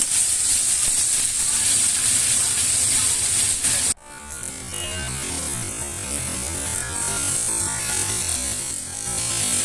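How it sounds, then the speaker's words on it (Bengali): Spice masala sizzles and fries steadily in a pan for a wedding-style matar paneer, loud broadband hiss throughout with a sharp shift partway as stirring scrapes and clicks under the frying, no talk. "মশলাটাকে খুব ভালোভাবে আমি নাড়াচাড়া করে দিচ্ছি না তো নিচে লেগে যাবে"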